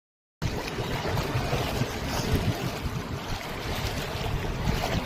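A waterfall near Chandeshwari temple at Kasari ghat, Nandgaon, Nashik, gives a steady, loud, broadband rushing roar that starts abruptly and holds without a break, with wind buffeting the microphone.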